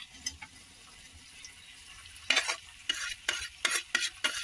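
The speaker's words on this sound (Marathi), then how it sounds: "आता यांना पाण्यामध्ये तेलामध्ये परतून घेऊ आपण" Peas fry in oil for mini samosa filling with a soft sizzle, broken by several quick scraping stirs of a spoon. The stirs come close together near the end.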